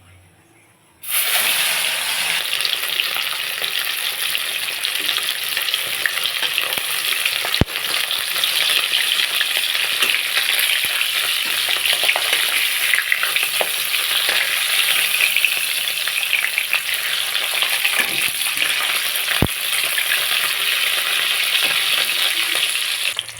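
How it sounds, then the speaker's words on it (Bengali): Loud, steady sizzling of koi fish frying in hot mustard oil, a continuous crackling hiss that starts abruptly and holds throughout, with a couple of sharp pops. "তেল গরম হয়ে গেছে, এখন কই মাছ কড়াই ছেড়ে দেবো।"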